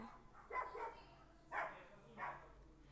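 A dog barks three times outdoors, heard muffled and somewhat distant from inside, with pauses between the barks.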